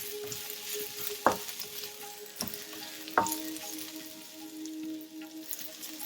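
Mushrooms sizzle in a hot pan with cashew chicken in a Thai stir-fry, a steady broadband frying hiss with a few sharp clacks of a utensil against the pan, no voices.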